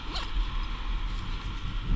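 A bag zipped shut after a keyboard is packed inside, set beside a motorcycle; a steady rasping zip runs for about two seconds at close range over low background rumble.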